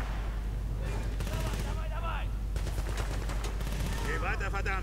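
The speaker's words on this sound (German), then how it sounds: "Stehen unter Beschuss." Heavy gunfire from the video game Battlefield Bad Company 2 rattles in rapid bursts with dense crackling volleys over a constant low rumble, while voices shout in the middle of combat.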